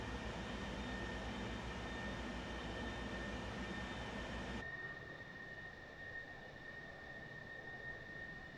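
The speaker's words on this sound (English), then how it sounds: "listen to the whistle of the engines" Concorde jet engines in Microsoft Flight Simulator give a steady broadband roar with a sustained high whistle tone running throughout, dropping in loudness and losing its top end partway through, with no talking.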